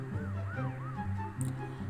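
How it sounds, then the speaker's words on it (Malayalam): A police car siren in the Bus Simulator Indonesia driving game wails in rising and falling sweeps over a low steady bus engine drone, moderately loud and close. "അവിടെ പോലീസ് വണ്ടിയൊക്കെ പോകുന്നുണ്ട് ആ സൈഡിൽ കൂടെ"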